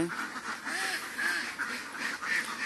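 Ducks quack repeatedly at a moderate distance, nasal calls overlapping in an uneven rhythm over a soft outdoor background, while being fed snails beside a pond.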